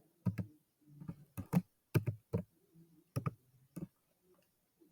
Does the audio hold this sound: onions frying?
no